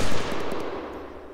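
A short, loud burst of full-automatic rifle fire from the ArmA 3 video game, a rapid run of close shots fading into a ringing tail over about a second, with no talk.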